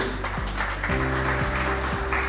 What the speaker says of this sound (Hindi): मोनिका शर्मा जी एक बार जोरदार तालियां हो जाएंगी।